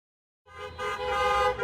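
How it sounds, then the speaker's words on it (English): Car horns honking in a celebratory show of support for staff, sustained harmonic blasts starting suddenly and overlapping loudly with no talk. "People cheering, clapping, honking"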